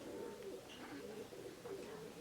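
Pigeons coo steadily in a cage, a continuous layered murmur of soft throaty calls at close range.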